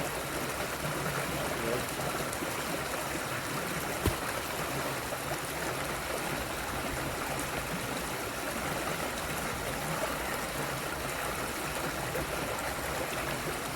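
Water trickles through a squeeze filter on the Appalachian Trail between Springer Mountain and Stover Creek, a steady, close, even hiss of running water that continues unbroken with no talking.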